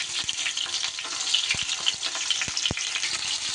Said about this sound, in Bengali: এইবার পটলগুলো দিয়ে দেব ভাজার জন্য